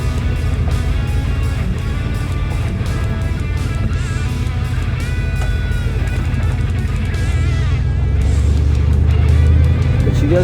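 An old GMC Caballero pickup, run again after sitting more than 20 years, is heard from inside while being driven: a steady, loud engine and road rumble that swells toward the end, with people talking over it.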